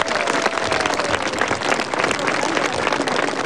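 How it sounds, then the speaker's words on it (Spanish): A crowd at a Peruvian presidential inauguration ceremony bursts into dense, sustained applause, steady clapping filling the whole span with no pauses. "fuerte los aplausos, por favor"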